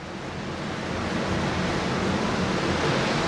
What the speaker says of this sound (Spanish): esto se levanta y por aquí sale el agua, mira